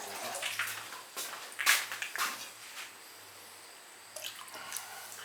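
White vinegar poured into water in a pottery studio: short splashy pouring bursts with brief trickles, fairly quiet and close, pausing between pours.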